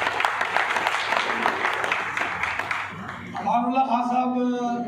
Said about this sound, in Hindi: उनकी याद में ज़रूर आप तालियां बजाएंगे